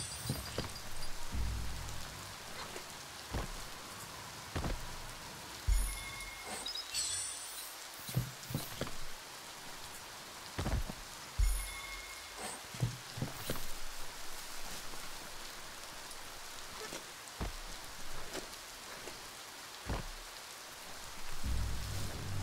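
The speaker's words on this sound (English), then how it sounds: "It looks nice in the rain." Steady rain pours across the open world of the video game Biomutant, a dense continuous hiss broken by scattered louder drops and taps, with no talking over it.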